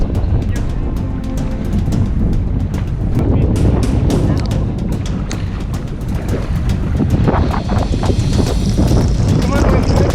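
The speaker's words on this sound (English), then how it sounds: "It's not a good time now. It's windy." Strong storm wind blasts across the microphone on a traditional Filipino kayak at sea, a constant loud roar with gusting buffets and water splashing, continuous throughout.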